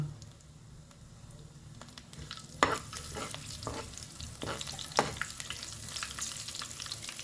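Coarsely crushed onion frying in a pan, a soft close sizzle broken by scraping stirs and a couple of sharp spoon knocks against the pan.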